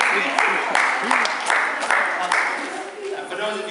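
Schoolchildren at a Chesterfield school clapping in a room, a burst of quick, dense applause that rises and fades in waves with talk mixed in.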